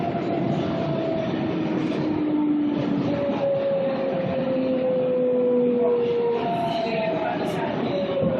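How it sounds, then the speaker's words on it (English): A New York City 6 local subway train runs with a steady loud rumble and rattle of wheels on track, while sustained tonal whines of the motors rise and fall throughout. "This is a Pelham Bay Park bound 6 local trains."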